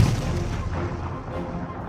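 Naval cannon fire from the Chilean ironclad Cochrane during a battle against the Peruvian ship Huáscar: a heavy, booming blast opens the moment and rumbles away over about two seconds, loud and without talk.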